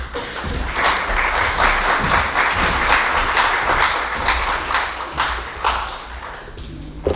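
An audience at a medical lecture in Brazil breaks into sustained applause, many hands clapping densely and steadily for several seconds before tapering off near the end.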